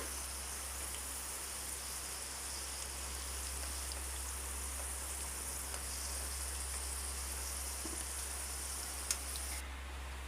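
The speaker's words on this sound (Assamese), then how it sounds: "এতিয়া গৰম তেলখিনিতে মই জলকীয়াকেইটা ফালি পেলাই দি দিলোঁ।" Split green chillies hit hot oil while cooking an Assamese-style chicken gravy, giving a steady, close, continuous sizzling hiss that holds evenly throughout with no talking.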